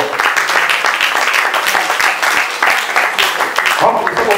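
An audience claps steadily, a dense wash of many hands applauding at once, with voices mixed in underneath.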